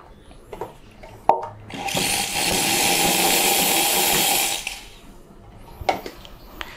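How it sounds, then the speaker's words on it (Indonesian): An espresso machine's steam wand purges with a loud, steady rush of hiss lasting about three seconds. A few sharp clicks and knocks come before and after it. "oke, gue akan purge steam ya."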